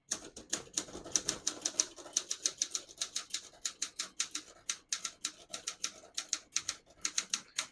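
A 1971 Olympia SM9 portable typewriter set to its red ribbon half is typed on steadily, sharp key strikes clacking close and rapid in uneven bursts, with no voices.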